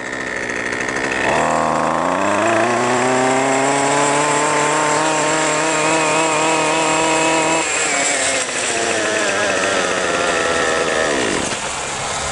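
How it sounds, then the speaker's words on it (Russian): A Husqvarna 128 string trimmer's small two-stroke engine starts up close by and revs high with a steady buzzing whine. It then drops to a lower idle, sputters and cuts off near the end. "Можно просто дернуть и триммер опять запустится."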